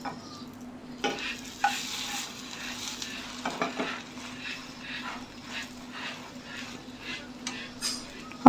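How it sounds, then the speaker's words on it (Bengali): Drumstick (moringa) leaves frying in a pan on low heat, a soft steady sizzle with occasional utensil clinks and stirring scrapes, close and quiet, no talk. "এখন কিন্তু অল্প আছে হচ্ছে, একদম লোতে আছে। এক মিনিট পর আমি এটা উল্টিয়ে দেব।"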